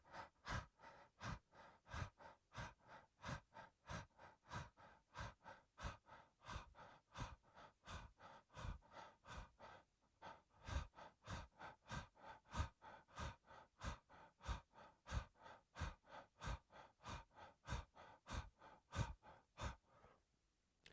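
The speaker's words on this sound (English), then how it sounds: "So open mouth, extend the tongue out, and begin to pant like a dog." Rapid rhythmic panting through an open mouth with the tongue extended, like a dog, in a steady run of quick, close breaths lasting about twenty seconds with a brief pause midway, alone and quiet.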